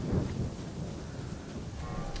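Steady rain hisses in a stormy scene in Assassin's Creed Shadows, with low, rolling thunder rumbling underneath throughout the short stretch.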